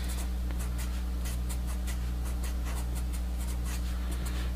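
Pen or marker strokes write out an equation on a surface in a quick series of short scratching taps, close and clear over a loud, steady electrical hum.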